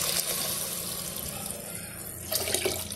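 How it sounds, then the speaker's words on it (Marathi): Water pours steadily into a pot of rice being cooked for khichdi, a continuous splashing flow lasting a few seconds with no talk over it. "आता पाणी टाकायचं आपल्याला."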